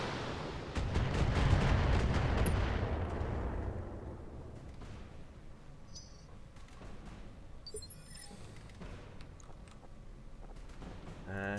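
Mech weapons firing in BattleTech multiplayer, a mech letting off a dual volley: a loud rumbling barrage builds and fades over a few seconds, followed by quieter scattered impacts and clicks.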